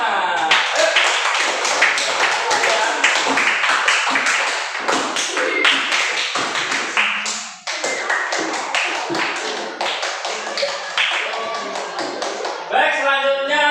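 A classroom audience applauds after group presentations, a dense, sustained burst of many hands clapping close by that runs on for several seconds, briefly dips, then continues before fading out.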